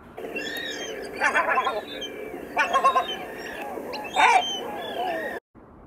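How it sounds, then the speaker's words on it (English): A gull gives several harsh, wailing calls in three distinct bursts over a steady outdoor background, fairly close and clear. "Gull."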